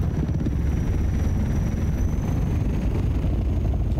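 Aircraft engine roars at full throttle in Microsoft Flight Simulator, a steady, loud, low droning rumble that holds constant without letup and with no voices over it.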